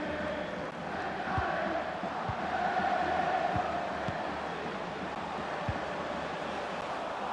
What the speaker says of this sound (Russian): Мяч в воротах, и болельщики ликуют.